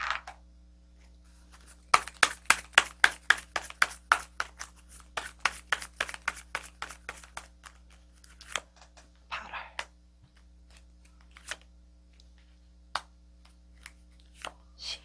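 Tarot cards drawn and laid down during a fortune reading, heard as a fast run of crisp snapping flicks that thins out into a few scattered taps and slaps, close and fairly quiet.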